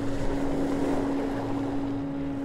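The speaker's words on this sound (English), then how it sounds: "I know these are not the waves you are used to have in Hawaii or California." Stormy weather on Lake Brienz, Switzerland: a steady, loud wash of waves and wind noise rolls on without pause, with a constant low hum underneath and no voices.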